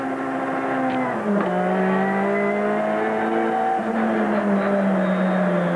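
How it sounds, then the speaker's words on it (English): A loud turbocharged Group A touring car engine revs continuously during a 1989 race, wheels spinning, its pitch dropping and climbing as the gears change, with a whining, strained tone throughout. "Plenty of wheel spinning, and just hear that rev changing."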